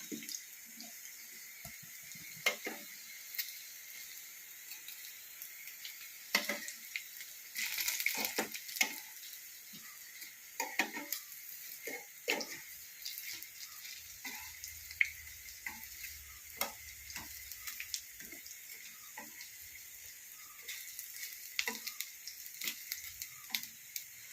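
Bitter gourd frying in a pan for a Kerala pavakka pollichathu, a faint continuous sizzle with scattered clicks and scrapes as the pieces are turned over.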